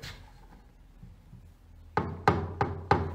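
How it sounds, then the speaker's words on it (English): A decorative door knocker strikes four times in an even rhythm, each knock sharp and resonant, following a quiet stretch of room tone. "How freaking cute is this door knocker?"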